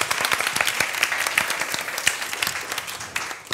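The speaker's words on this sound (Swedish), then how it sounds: "En applåd till Carina, Henrik och Åsa för att ni har delat med er." A conference audience applauding, a moderately distant, steady patter of many hands clapping that tapers off slightly toward the end.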